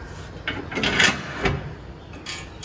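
A few close wooden and metal clunks and scrapes as the hinged steps of a 2016 Coachmen Clipper 806LS pop-up camper are lifted and slide into place.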